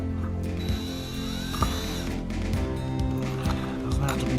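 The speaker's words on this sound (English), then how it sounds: "So I got a fresh piece of sandpaper. I'm gonna stick it on my drill here." Power drill spinning a fresh piece of sandpaper to sand down a part stuck on a spindle, a steady close motor whine with scraping grit and small clicks throughout.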